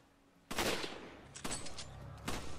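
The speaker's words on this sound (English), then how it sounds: "Sheva would start shooting." Gunfire from Sheva in the video game Resident Evil 5, a few sharp shots spaced apart over low background game ambience.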